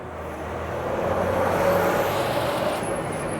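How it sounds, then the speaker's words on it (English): A city bus, route 109B, passing along Marlee Avenue in Toronto in winter: a steady engine rumble and tire roar swelling as it nears, with a brief hiss near the end. "There comes a bus down Marlee."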